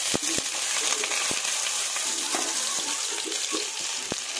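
Boiled jackfruit fries in hot oil in a home kitchen, crackling and spitting steadily close by, with several sharp pops and light stirring scrapes throughout.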